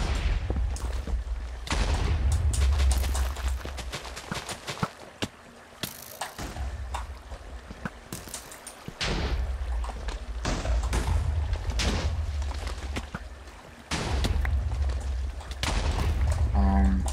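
Repeated heavy explosions from TNT cannons in a video game boom in quick succession, loud and close, with bursts of rumbling blasts and brief gaps between volleys.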